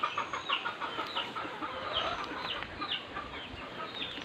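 Native chickens cluck on a farm, scattered short calls from several birds repeating irregularly at moderate distance over a steady outdoor noise bed.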